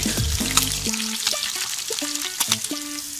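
Trout fries in a pan outdoors on a lakeside spring evening, a steady soft sizzle with small crackles and pops, alone with no talk.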